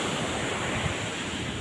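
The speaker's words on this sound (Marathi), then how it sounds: "बघू शकता समुद्र." Sea waves wash steadily along Khavne beach in a continuous, even rush of surf with a breezy hiss and no clear breaks.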